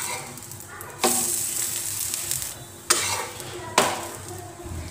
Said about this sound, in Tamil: இது மேலே நம்ம தேவையான அளவு எண்ணெய் ஊற்றிக்கலாம். 1 மினிட் வந்து வேகட்டும்.